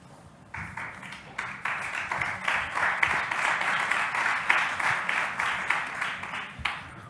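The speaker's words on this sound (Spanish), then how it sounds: "entiendo que aplaudís a Valeria y no a mí" Audience applause at a conference on public employment for people with intellectual disabilities, a steady crowd clapping that starts abruptly, holds fairly loud for several seconds, then thins out near the end.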